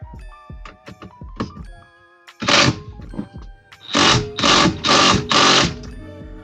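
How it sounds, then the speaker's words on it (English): A DeWalt impact wrench loosens a steering wheel bolt on a 2017-2021 GM truck or SUV. A few light taps come first, then one loud burst, then four rapid, closely spaced hammering bursts right up close. "What kind of impact is this one?"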